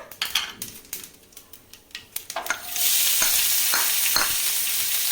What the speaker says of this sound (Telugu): కట్ చేసి పెట్టుకున్నాం కదండి ఎర్రగడ్డలు దీంట్లోకి వేసుకోవాలా